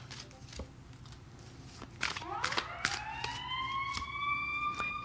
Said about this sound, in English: And we've got sirens.